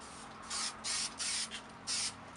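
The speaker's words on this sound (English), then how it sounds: "I'm going to do the spray glue on it" Four short bursts of spray hiss from an aerosol can of spray adhesive onto a milk jug, evenly spaced with brief pauses between, fairly close.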